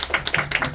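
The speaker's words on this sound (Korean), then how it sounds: "우리 하나님께 영광의 박수 한번 돌리고" Church congregation clapping: a quick run of sharp, distinct claps, close and fairly soft, lasting under a second with no talking.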